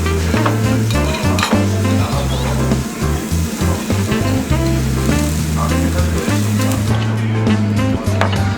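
Food sizzles as it grills at a restaurant in Fukuoka, heard up close as a dense, continuous crackle. A steady low hum and occasional clinks run underneath, and voices can be heard in the background.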